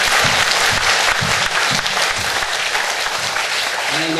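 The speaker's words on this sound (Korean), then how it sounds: "그 하나님의 영광의 박수 드리겠습니다." Steady, loud applause from a church congregation at an evening summer revival service, dense clapping filling the room without a break.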